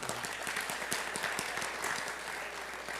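Audience applause at an aviation heritage foundation gala, a steady patter of many hands clapping at close range, filling the whole stretch with no talk over it.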